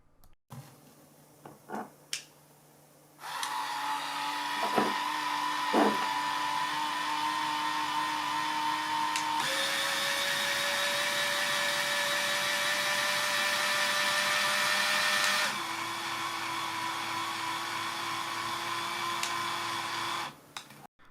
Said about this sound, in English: show you the two modes and how loud they are so you can hear the motor